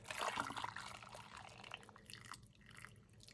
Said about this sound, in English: Got my funnel, my vinegar. I'm gonna ladle in here